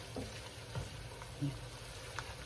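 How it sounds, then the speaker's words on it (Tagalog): Chopped garlic frying in a pan, browning as it cooks for a Filipino seafood dish with cajun seasoning; a steady low sizzle runs throughout with a few brief stirring knocks. "Atin lang pong luluto-lutoin yung bawang. Atin pong medyo ibabrown-brown."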